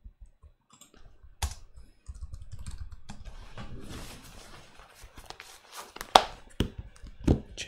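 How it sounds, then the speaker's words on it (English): A password is typed on a computer keyboard, scattered key clicks in short bursts with a couple of louder taps, close and fairly quiet. "I'll have to type my password."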